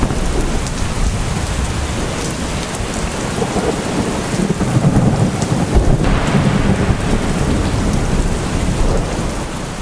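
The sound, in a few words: heavy rain with thunder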